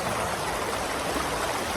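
A small waterfall and shallow rocky stream at a forest campsite produces a steady, dense rush of falling water, constant and close, with no other sounds.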